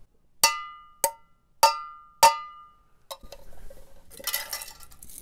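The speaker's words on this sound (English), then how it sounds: "This was the cowbell sound." Found-object cowbell percussion: four sharp metallic clanks struck at an even, steady pace, each ringing briefly, then followed by softer scattered rustling and clattering noise.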